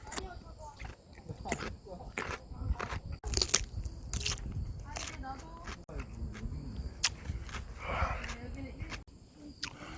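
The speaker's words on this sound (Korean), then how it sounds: "등산하다 오이 먹어봤어?" A hiker bites into and chews a fresh cucumber on a mountain trail, with sharp crunches repeating irregularly up close, sometimes under quiet talk, and faint insect chirps in the background.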